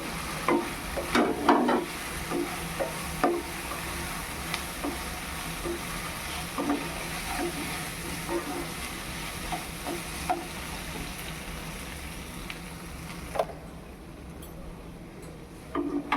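Prawns frying for chilli garlic prawn, a steady close sizzle with scattered clinks and scrapes of stirring in the pan, holding on without talk until it drops away near the end.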